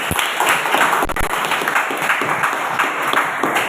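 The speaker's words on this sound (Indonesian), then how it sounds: "Oke, bagus, tepuk tangan untuk kalian." A class of students claps together in a classroom, a steady, dense round of applause lasting a few seconds, fairly loud and close.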